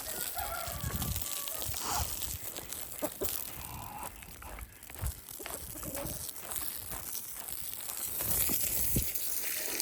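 Chickens cluck and a rooster crows on a farm, scattered bird calls at moderate distance over steady outdoor background noise.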